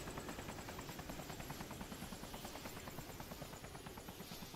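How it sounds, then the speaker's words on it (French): An enemy helicopter in the game Arma 2 DayZ drones with a steady rapid rotor chop over a continuous engine whine, fairly close and sustained, with no speech. "Alors on a un hélico ennemi"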